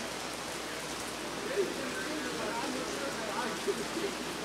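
Steady rain falls outdoors during an opera performance in Toronto, a dense, even hiss with occasional louder drops, close and continuous, with no talk.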